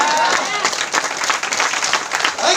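A seated audience at a business meeting breaks into dense, steady applause, many hands clapping together at close range with faint crowd murmur underneath.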